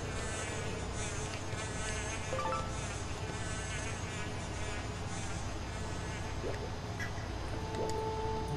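A bee buzzes steadily in Zelda: Skyward Sword, a continuous insect drone over busy game ambience and music for the whole stretch, fairly loud and close.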